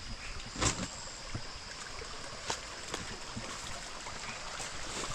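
Water flows in a stream near a flat rock slab outdoors, a steady rushing wash with a few soft knocks and splashes, fairly faint and without voices.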